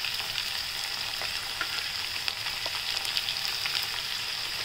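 Onion greens, capsicum and beans stir-fry in a hot pan for vegetable Hakka noodles, a steady close sizzle with light scraping and tossing throughout.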